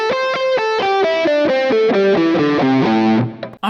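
Fast electric guitar run with distortion, each note cleanly separated in a rapid descending sequence, loud and close, ending abruptly.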